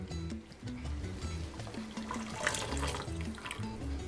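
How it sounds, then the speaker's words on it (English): Very hot water poured from a tea kettle into a cooking pot, a steady continuous splashing pour at close range, alone without talk. "Now I'm gonna add my water."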